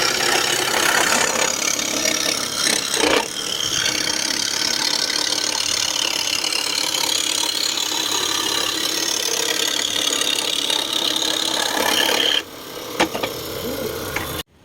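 A Makita SJ401 scroll saw running at full speed through a piece of scrap wood, giving a steady, loud, buzzing motor whine with fast reciprocating chatter that holds for about twelve seconds before the pitch drops and the saw cuts out.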